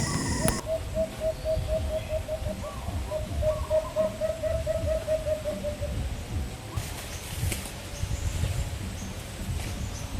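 During a hunt for alimokon birds, a person imitates the bird's call with a voice: a rapid, evenly paced run of soft hooting notes for several seconds over rustling outdoor background noise.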